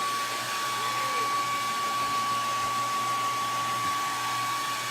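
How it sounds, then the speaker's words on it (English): A hair dryer blows steadily on a homemade welcome sign meant for above a fireplace, giving a close, even whoosh that holds at one level for the whole stretch with no talking. "I'm just drying it so that we don't get it wet."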